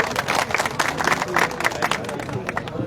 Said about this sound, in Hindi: ताली बजा के जोरदार।